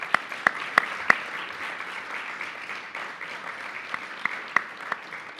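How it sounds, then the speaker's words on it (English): Audience applause after a speaker asks the crowd to honor a gentleman, a steady wash of clapping from many hands with a few sharper nearby claps standing out, sustained throughout without speech. "Give this gentleman a big round of applause for doing that."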